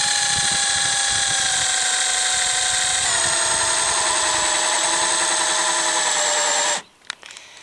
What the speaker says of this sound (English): After drilling through 10 mils, we alternate to our second marker.